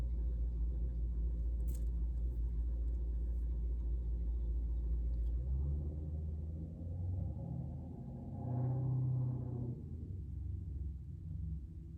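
A car speeds past a house on a cul-de-sac, a heavy low rumble that swells and fades over several seconds, heard from indoors.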